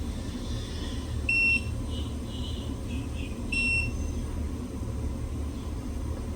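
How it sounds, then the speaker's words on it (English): An electrical outlet tester on a newly installed 220-volt 10-2 outlet gives a couple of faint, brief high beeps over a steady background hum, with no talk. "Turn on my tester."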